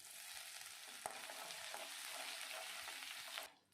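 Mustard seeds, chana dal and chopped ginger crackle and sizzle steadily in hot sesame oil, a dense continuous fry with a sharp tap near the start, cutting off abruptly near the end; no voices.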